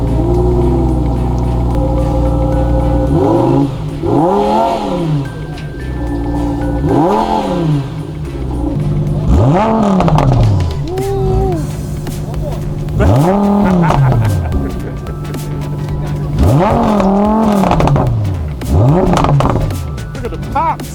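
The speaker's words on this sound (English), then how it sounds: "you just heard the Huracan Evo, the rev on it, crazy." A Lamborghini Huracan Evo engine revs hard again and again in a steady series of loud, close sweeps, each climb and fall trailed by sharp exhaust pops and crackles, with a voice talking over the noise.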